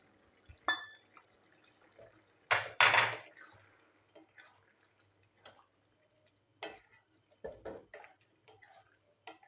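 Boiled matar dal goes into bottle gourd cooking in a pot. A few close, quiet wet plops and sharp utensil clinks come in scattered bursts over a low simmering background.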